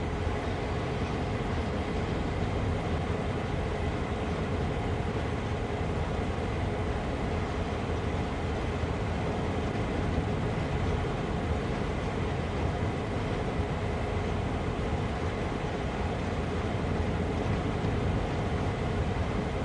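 Steady broadband rumble and rolling noise of a train slowing on a Train Sim World 4 route past sidings, a continuous even drone with no clear braking peaks, heard alone without talk.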